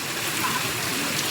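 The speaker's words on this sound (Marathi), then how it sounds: "पाऊस कसा आहे पाऊस भरायला बेस्ट" Rain of the season's first downpour patters steadily on surfaces nearby, a dense continuous hiss with no voices.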